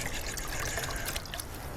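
Water trickling and pouring into a camping cook pot at an outdoor motocamp setup, a brief, steady splashing stream heard close with no voices.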